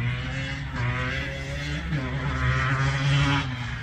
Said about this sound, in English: It's all about that exhaust note.